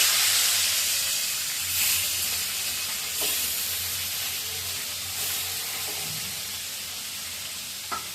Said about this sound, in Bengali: আর এদিকে মাছগুলো ভেজে নিব।